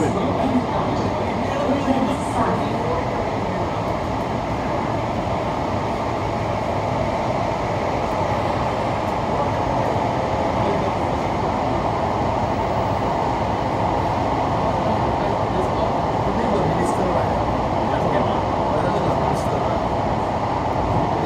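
Steady rumble of an SMRT Thomson-East Coast Line train running between stations, a continuous loud rolling drone with faint rattles and no talk over it.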